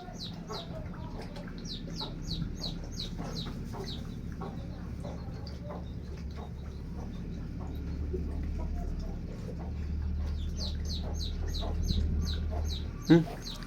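Chickens and small chicks cluck and peep softly around a farmyard, with bursts of high chirping at the start and end over a low background, and a person talks quietly.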